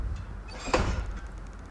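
A wooden structure creaks in the video game Far Lone Sails, one strained groan rising near the middle of a quiet ambient bed, moderately loud and alone with no voices.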